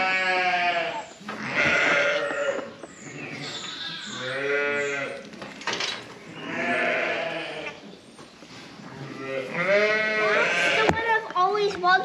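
Texel sheep and a three-quarter Texel lamb bleat loudly and repeatedly at close range in a lambing shed, long wavering cries overlapping one another with a brief pause between bursts.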